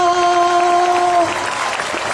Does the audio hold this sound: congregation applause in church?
yes